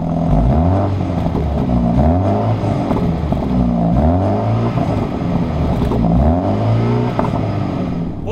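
A Mini Countryman JCW with its standard exhaust starts up, the engine catching and settling into a smooth, rhythmic idle with gentle revs rising and falling, close and clear with no pops or splutters.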